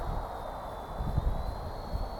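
A WLtoys V930 brushless flybarless RC helicopter flies nearby, its small motor giving a steady whining buzz over a rumbling wind-blown background.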